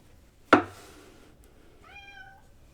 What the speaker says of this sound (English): I'm also sorry if you guys can hear my cat outside.